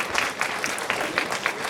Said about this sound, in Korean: 우리 2학년 3반 친구들 박수 한번 해주시기 바랍니다.